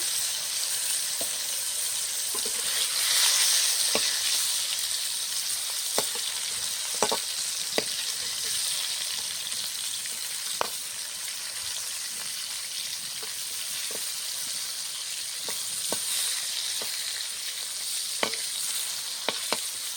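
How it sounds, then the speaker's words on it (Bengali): Pointed gourd (potol) frying in mustard oil in a kadai, a steady bright sizzle throughout with scattered clinks and scrapes of a spatula stirring, close and unaccompanied by talk. "কড়াইতে আমি সরষের তেল দিয়েছি পটল ভাজার জন্য।"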